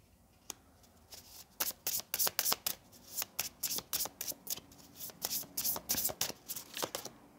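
Oracle cards being shuffled by hand during a tarot-style reading: a steady run of crisp, close riffling bursts, repeated rhythmically for several seconds with no voices over them.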